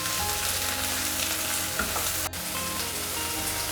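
Fish curry ingredients, young bottle gourd shoots and potato, frying in a pan: a soft, continuous sizzle with faint stirring scrapes and one brief clatter partway through, fairly quiet and close, no voices.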